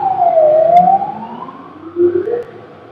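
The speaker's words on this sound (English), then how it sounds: "It does the whoop sound." A siren on an emergency medical response vehicle with red and yellow checkers gives a loud, close whoop, swooping down and back up and then rising again, with no other sound over it.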